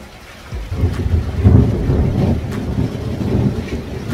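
Steady rain falls outdoors in Jamaica, a dense continuous wash of loud rainfall with low rumbling beneath, heard alone without voices.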